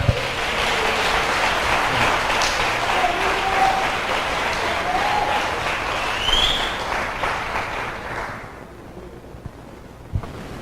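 A church congregation at a Sunday evening service applauds in a long, dense, loud wash of clapping that holds for about eight seconds before fading quickly, with a couple of isolated claps at the end.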